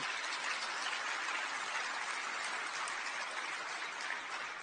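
A crowd applauds steadily, a dense, even wash of many hands clapping at moderate distance with no gaps, sustained throughout without voices.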